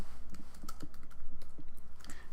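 Quick, light keystrokes on a computer keyboard, an irregular run of close clicks and taps with no talking.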